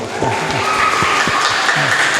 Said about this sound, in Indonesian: Terima tepuk tangannya dong.